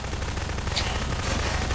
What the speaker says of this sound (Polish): Słyszę strzały.